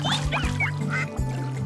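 Cartoonish duck quacks from a PlayStation 3 motion-control game, several short nasal calls in quick succession over a steady low game tone, fairly loud and close, with no talk.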